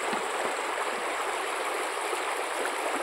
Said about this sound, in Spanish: Es una belleza de río.